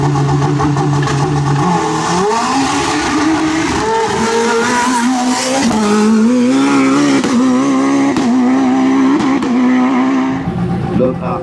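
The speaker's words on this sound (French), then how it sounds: "Marcel Steiner au volant de son impressionnante Lola, Lola, Honda, Lola F-Tech Honda" Lola F-Tech Honda race car driven at the Massongex hill climb, loud high-revving engine climbing through repeated gear changes, with an announcer talking over it.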